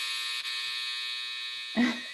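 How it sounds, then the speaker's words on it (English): A new, very loud clothes dryer runs as a steady mechanical hum and whine filling the room, continuous throughout, with a brief low thump near the end. "I got a new dryer. It's very loud, so apologies for that."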